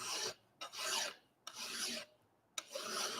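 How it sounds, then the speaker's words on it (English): A hand file rasps across a burr on a piece of metal clamped in a vise, making three long, steady strokes with brief pauses between them, close and clear with no talk. "Now there's still a burr on that bit of metal, so I'll take that off."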